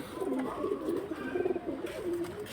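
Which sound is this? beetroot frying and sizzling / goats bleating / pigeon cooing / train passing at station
pigeon cooing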